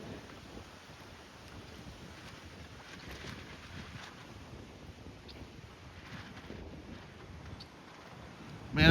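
Steady wind rushes and buffets the microphone beside a pond where model sailboats, including a Soling, race at a club meet; a constant broadband roar with faint lapping water and a gust at the end, no talking.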